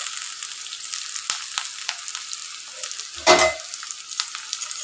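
Thick-cut onions fry in a pan for a chicken curry, a steady close sizzle with crisp crackles and a louder burst of stirring midway, no voices over it.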